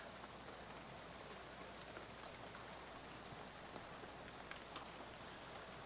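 Rain splatters against a bus window in the video game Shadows over Loathing, a soft, steady patter with scattered drop ticks that runs on evenly and quietly throughout.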